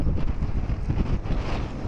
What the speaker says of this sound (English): even as the windy conditions continue.